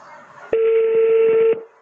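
A single sustained telephone dialing tone rings out steadily for about a second, loud and close, with faint background noise before and after.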